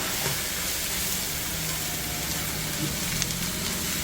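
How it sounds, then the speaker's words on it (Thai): Spinach sizzles and fries steadily in bacon fat with a little onion over lowered heat, a continuous close hiss with faint stirring scrapes and no talk. "ผัดให้เขา เข้ากับตัว มันของเบคอนแล้วก็หัวหอมนิดนึงนะคะ"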